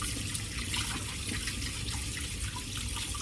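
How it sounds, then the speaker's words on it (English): Tap water runs steadily into a kitchen sink while hands are washed, a continuous broadband rush and splash with faint dripping, close and fairly loud throughout, no voices. "I'm going to wash my hands real quick."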